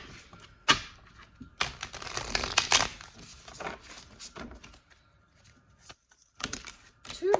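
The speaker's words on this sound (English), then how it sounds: "let me shuffle again" Tarot cards being shuffled by hand make quick papery riffles and soft slaps in irregular bursts, close and fairly quiet, with short pauses between handfuls.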